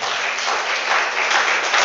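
An audience at a church revival service applauds steadily, a dense wash of clapping that stays loud and continuous throughout, with no talk over it.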